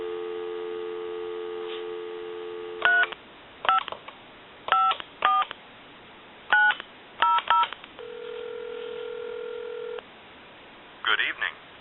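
A steady telephone dial tone on a French-style desk telephone, then a series of quick touch-tone beeps in short bursts, and a second steady tone before a few final beeps.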